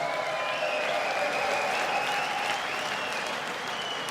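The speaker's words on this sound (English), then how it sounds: "Dames en heren, geven we nog één keer hartelijk applaus." Steady applause from a darts crowd for player Wes Newton at the Dutch Darts Masters, a dense wash of clapping filling the hall without pause.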